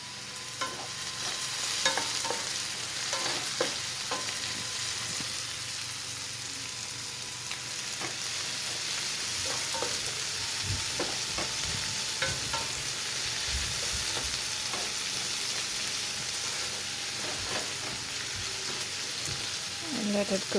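Onions sautéing with added salt for a Kerala beef curry fill the scene with a steady, dense sizzle, with scraping stirs of a spoon against the pan scattered throughout and faint talk in places.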